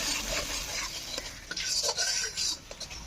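Mustard paste being sautéed and stirred in hot mustard oil for a drumstick curry: a spatula scrapes and clinks against the pan in uneven strokes over a light sizzle, close and fairly loud.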